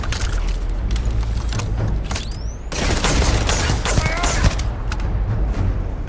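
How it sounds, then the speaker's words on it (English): Rapid bursts of gunfire in the Starfield video game, dense and loud, with mechanical clatter throughout the brief firefight. "I'm just gonna start shooting immediately."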